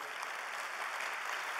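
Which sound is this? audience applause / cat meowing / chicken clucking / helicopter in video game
audience applause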